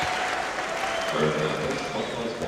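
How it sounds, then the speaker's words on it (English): A basketball arena crowd in a Lakers versus Bulls game cheers a player heading to the bench, a dense, sustained roar and applause filling the space, with a commentator's voice mixed in. "Goes to the bench, and the crowd sends him there with a cheer."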